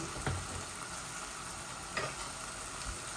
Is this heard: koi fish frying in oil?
yes